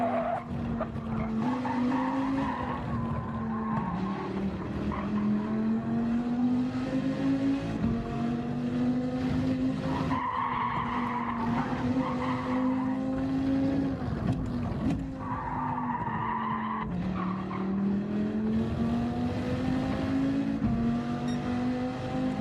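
Race car engine in Gran Turismo 7 revving through repeated rising pitches with upshifts and brief tire squeal, loud and continuous across the lap.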